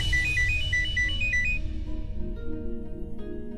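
A phone ringtone for an incoming call, a repeating bright electronic melody loud for about a second and a half, then fading out over low background music in a Hindi TV drama scene.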